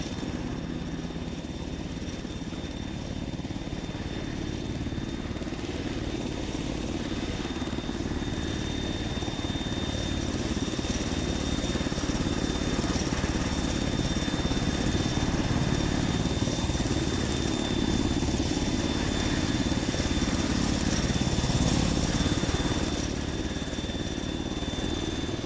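A helicopter flies in a military simulation video game, its rotor and engine drone steady and loud throughout without letting up, with no talk on top.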